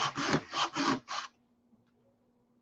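Four rhythmic rasping strokes of sandpaper on a small P-47 model cockpit part, close and distinct, then the sanding stops and only faint room hum remains.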